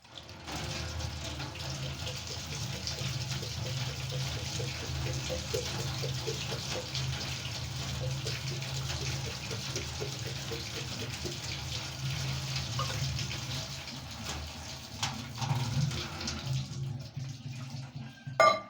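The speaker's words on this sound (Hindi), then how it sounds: "मैंने इसके अंदर पानी डाल दिया" Cold water poured steadily into a container at home while making yogurt, a continuous close splashing gush lasting throughout with a few clunks near the end.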